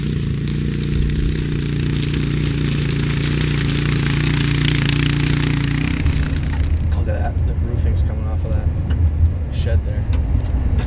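A hunting truck driving on a windy day in Iowa, with a continuous low engine drone and road rumble that stays loud throughout, shifting to rougher, noisier road sound in the second half.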